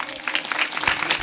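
Villagers at a kirtan gathering clap loudly for a moment, a short, busy patter of many hands nearby.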